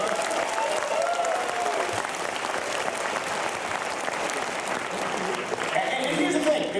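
Live comedy show audience in Ann Arbor breaking into steady applause with some crowd noise, fairly distant and continuous, while a voice speaks over it at times.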